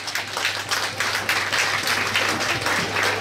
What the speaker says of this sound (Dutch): maak alsjeblieft een luid applaus voor onze allereerste kandidaten van vanavond hier